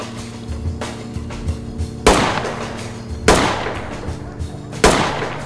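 Gunfire in the tactical shooter Ready or Not: three sharp, loud shots spaced about a second apart over a low game background hum, with faint ticks between them.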